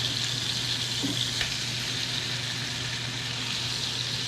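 Hamburger patties fry in a big cast iron skillet, giving a loud, continuous grease sizzle with small crackles and pops throughout.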